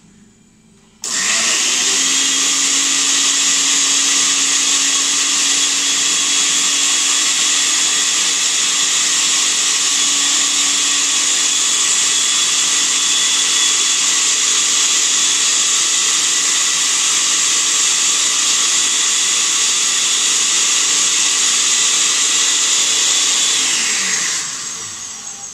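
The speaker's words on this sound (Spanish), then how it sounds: "Y el cubito de pollo. Lo vamos a moler." A blender grinds a chicken bouillon cube, a loud, steady high-pitched whir that starts abruptly, holds unchanged for over twenty seconds, then winds down at the end.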